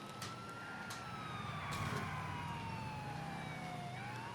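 A police siren in a driving video game, a wailing tone sliding slowly downward over a steady traffic and engine hum, fairly prominent with no talk.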